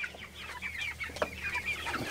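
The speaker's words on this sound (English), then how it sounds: "First time raising meat chickens." Meat chickens clucking close by, a busy overlapping flock of short soft clucks and chirps with no talking.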